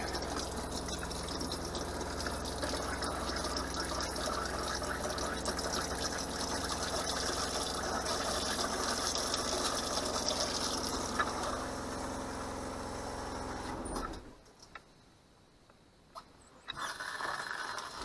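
Pink antifreeze running from an RV faucet while winterizing the hot and cold water systems, a steady splashing flow for most of the clip that cuts off near the end, with faint talk around it.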